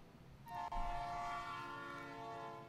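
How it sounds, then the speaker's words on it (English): A train horn sounds a sustained chord of tones over the low rumble of a moving train, steady and fairly loud for a few seconds. "right along the row there is all the sounds that are relating to a train."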